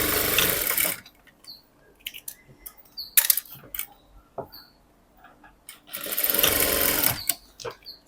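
A sewing machine runs in two steady bursts while cross-stitching a blouse, with soft clicks and handling noises in the quiet gap between the runs.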